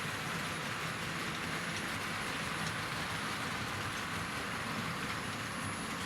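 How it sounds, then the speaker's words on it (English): A Tri-ang Flying Scotsman model locomotive in apple green runs along a layout, producing a constant, fairly quiet motor whir and track rumble with no speech. "Great runner, this Tri-ang Flying Scotsman, and it's apple green, looks the business."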